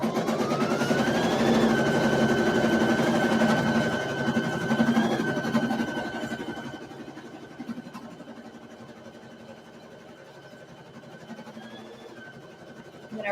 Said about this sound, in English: So now it's going to do the tack down stitch for the number